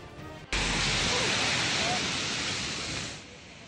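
Storm surge waves from Super Typhoon Pepito crash ashore at Virac, Catanduanes, a loud, dense roar of surf that bursts in abruptly and holds as a continuous wash before easing slightly near the end.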